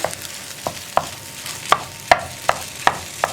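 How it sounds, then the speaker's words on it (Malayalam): Raw plantain stir-fry being mixed with egg in a pan, a spatula striking and scraping the pan in a steady series of sharp clacks about every half second over a quiet sizzle. "നമ്മളിനി ഇതെല്ലാം ചേർത്ത് നന്നായിട്ട് മിക്സ് ചെയ്ത്"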